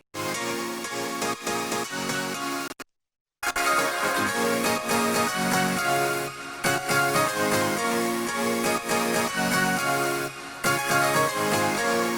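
A bright synth lead, layered as a second lead, plays over a dense electronic dance backing track, loud and continuous, with one brief dropout into silence partway through.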